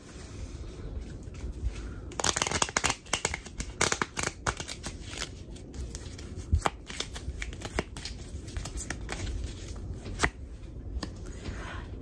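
A deck of cards being shuffled up close, with a run of quick crisp riffling flutters and a few sharp snaps, no talking.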